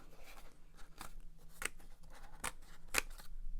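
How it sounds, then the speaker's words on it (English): Scissors make a series of crisp, close snips at an uneven, unhurried pace, with quiet handling noise between the cuts. "You just want to be able to get your scissors in and around."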